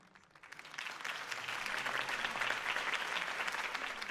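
Crowd applause at a city campaign speech rises quickly from a quiet start into a dense, sustained wave of clapping that stays loud and steady to the end, with no voices over it.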